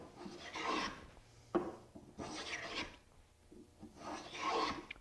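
A handmade wooden molding plane shaves wood in three slow, rasping strokes, each a soft, close scraping swell separated by brief pauses; quiet, with no talking.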